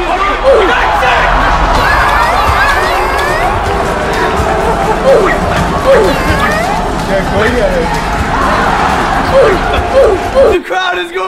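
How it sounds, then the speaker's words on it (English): Excited crowd yelling and shouting around a fight between a tiny 4'11 girl and a dwarf, dense loud babble with sharp cries and scattered thuds, cutting off abruptly at the end. "The crowd is going crazy over here."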